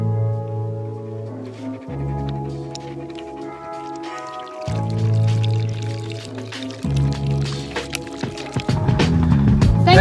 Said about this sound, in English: I'm just pouring myself some water for the walk.